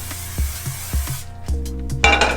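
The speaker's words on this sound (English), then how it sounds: "It's a non-stick olive oil cooking spray. So I just spray this on my pans" Short bursts of non-stick olive oil aerosol spray hiss against a pan, mixed with light metallic clinks and knocks, ending in a louder, sizzling hiss.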